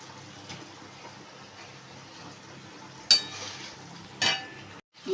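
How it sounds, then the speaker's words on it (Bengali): Fish pieces added to fried mustard paste for a spicy chorchori give a steady low sizzle throughout, with two sharper spatula scrapes or clinks against the pan near the end. "সর্ষে বাটা বেশি ভাজতে নেই, বেশি ভাজলে দিতে হয়ে যায়, তার জন্য অল্প ভেজে এবার মাছগুলোকে ছেড়ে দেবো।"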